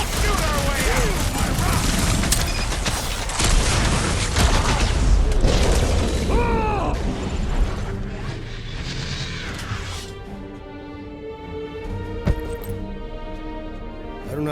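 Gunfire and crashing impacts fill a shootout in the video game Guardians of the Galaxy, a dense, loud barrage of shots and booms under character voices and music that thins out toward the end.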